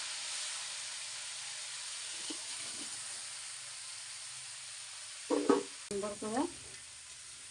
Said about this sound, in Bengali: ভালো করে একটু তেলে ভেজে নেব, চিংড়ি মাছের মতন।